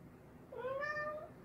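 A domestic cat gives a single rising, drawn-out meow, clear and fairly close over a low background hum.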